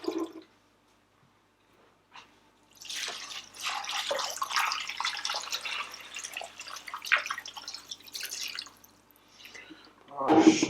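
Filtered water from a Zazen water filter runs and splashes into a container for bone broth, a steady trickle with a couple of brief drips beforehand and a louder burst at the end.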